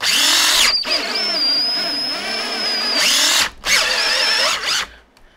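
A Dewalt cordless drill runs on an adapter letting a 20V battery power an 18V tool, whining loudly in three close bursts, the first brief, then a longer steady run, then another, with short stops between.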